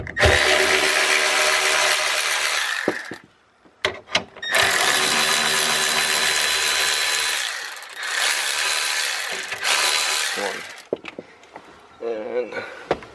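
An electric ratchet spins out 10 mm bolts holding the rear wiper motor on a Nissan S15 200SX, long whirring runs broken by short pauses, loud and close with someone talking between them.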